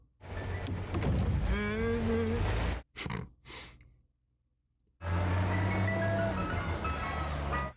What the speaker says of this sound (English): everybody's surrounding the ice cream truck